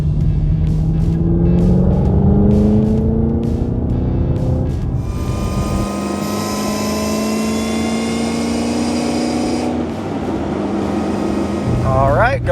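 A supercharged LT4 V8 in a Camaro ZL1 pulls hard in third gear at part throttle, its loud steady engine drone climbing in pitch with supercharger whine on top, a voice speaking briefly at the start.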